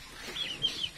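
Rhode Island Red chickens clucking softly on a farm, a few short, close calls over a faint background.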